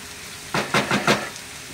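An oyster fry mixture is stirred in a pan over a gas flame: four quick, rhythmic scraping sizzles over a soft background hiss, with no talking.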